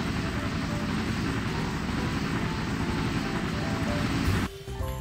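A helicopter flies in the Minecraft video game, its steady, loud, dense rotor and engine drone running continuously before cutting off abruptly near the end, leaving quieter game sounds.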